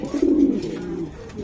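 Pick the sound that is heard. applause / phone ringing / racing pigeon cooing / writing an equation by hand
racing pigeon cooing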